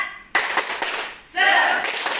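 Students and staff at a junior high school perform a tepuk semangat cheer, short loud bursts of group clapping with chanted voices joining in, close by and punchy.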